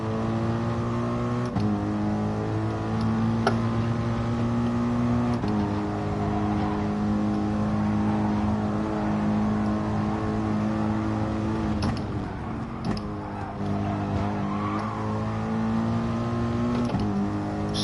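A racing car accelerates hard through its gears, the engine note climbing steadily, dropping at each shift and climbing again, loud and continuous with no pauses.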